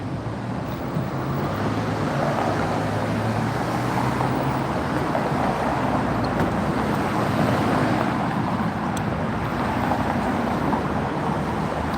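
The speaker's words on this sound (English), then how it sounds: "it's loud with the traffic out here" Steady roar of road traffic outdoors near a reptile venue in Utica, Michigan, a dense continuous wash of passing cars with wind buffeting the microphone and no clear speech.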